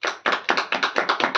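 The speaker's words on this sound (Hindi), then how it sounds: "हम सब ताली बजा के जो है उसका अभिनंदन करेंगे।" A church congregation claps hands together in worship, about eight sharp, evenly spaced claps in a steady rhythm, close and fairly loud with no talking.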